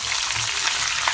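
Tangra fish with potato and eggplant fries in a pan, giving a steady, loud, hissing sizzle up close that holds evenly throughout with faint crackles and no voices.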